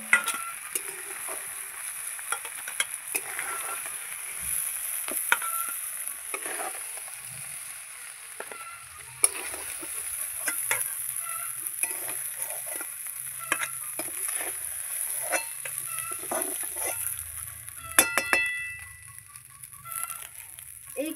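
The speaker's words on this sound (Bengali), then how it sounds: "চিংড়ি মাছগুলো আমি ভেজে নিয়েছি" Prawns fry in oil in a wok with a steady, crackling sizzle that lasts throughout. Scraping stirs and occasional clinks of the utensil break through near the pan.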